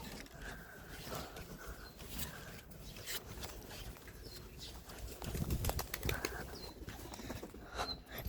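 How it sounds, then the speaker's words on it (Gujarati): Pigeons take off with soft, scattered flaps of their wings, faint at first and then a little louder in a brief flurry toward the end. "તો મિત્રો હવે આપણા નીચલા કબૂતરા ઉડાડી દે."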